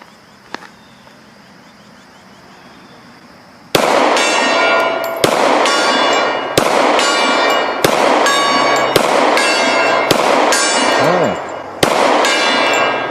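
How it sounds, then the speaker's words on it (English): Eight or so loud gunshots striking a metal gong outdoors, each a sharp crack followed by a ringing metallic clang, fired at a steady, roughly one-to-two-second pace after a quiet start. "Let's go ahead and shoot the gong."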